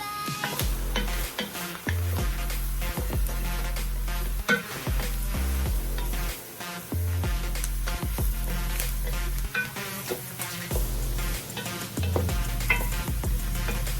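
Chopped onions cook down in a gumbo pot for chicken and sausage gumbo, sizzling steadily up close while a spoon scrapes and stirs in irregular knocks against the pot, with no one talking.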